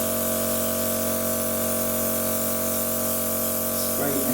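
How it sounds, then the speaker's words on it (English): An airbrush sprays a light, continuous hiss close by, holding steady over a hum with strong tonal lines, and a voice breaks in near the end. "So I'm going to airbrush you now, man."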